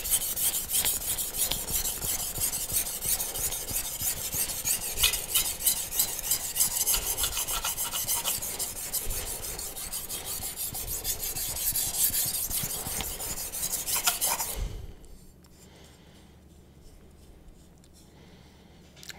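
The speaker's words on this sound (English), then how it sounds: "I'm actually just gonna sharpen this on the 1200." Dull HAP40 steel knife sharpened on a 1200-grit CBN whetstone, close rhythmic rasping strokes scraping back and forth for about fifteen seconds, then stopping into near quiet.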